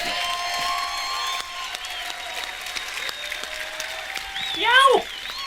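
Applause from a crowd at the Bethesda E3 2018 showcase, steady and moderately loud, with cheering voices and a sharp whoop rising near the end.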